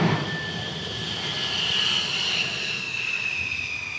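A jet aircraft landing on the flight deck of the aircraft carrier Charles de Gaulle, a loud steady roar with a high whining tone that holds for several seconds, sounding close and continuous.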